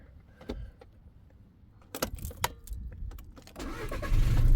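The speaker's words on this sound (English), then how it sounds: "Turn the engine on, pump the brake a few times till it goes hard." A car engine cranks and catches after some faint clicks and rattles, rising into a steady, loud rumble by the end.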